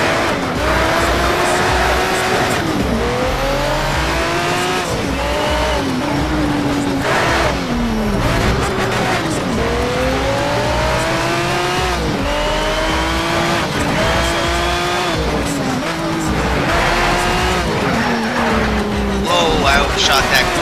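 Engines roar with rising and falling gear shifts as tires squeal and skid through corners in the Need for Speed Shift racing game, a McLaren F1 driven hard, loud and continuous throughout the whole stretch.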